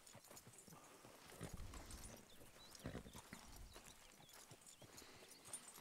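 A horse's hooves clop at a steady walk in Red Dead Redemption 2, soft rhythmic footfalls close by against low ambient noise, faint and even throughout.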